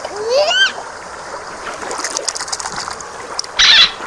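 A toy dolphin splashes back into water with a short, bright splash near the end. Before it, a chirpy rising voice-like squeak sounds over a faint watery hiss.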